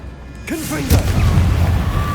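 A voice calls out a spell, then the Confringo fire blast from Hogwarts Legacy lands as a sudden booming burst, followed by a rumbling, crackling tail under game ambience.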